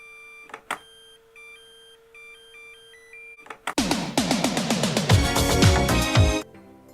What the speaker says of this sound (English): You can actually change the beeping noise of the Makitas by just placing the battery on and off quickly.